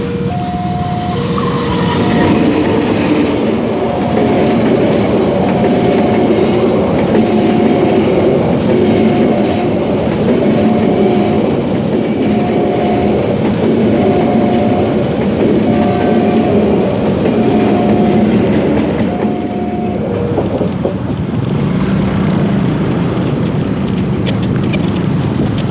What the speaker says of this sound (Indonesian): Ah, ini kereta api.